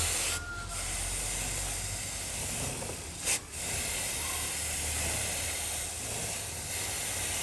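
Chain lube sprays from an aerosol can onto a motorcycle chain as it is turned by hand, a long, close, continuous hiss with a short sputter partway through.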